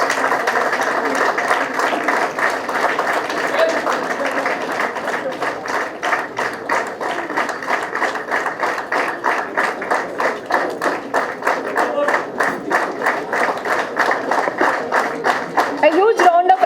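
An audience at a valedictory function claps for contributors to a house journal, dense applause that settles into rhythmic unison clapping, loud and continuous.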